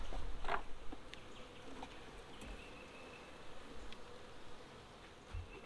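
Honey bees in an open hive at Cole's Farm, exposed while the top box and queen excluder are lifted off, drone in a soft, steady, low-level buzz with a few faint bumps and handling noises.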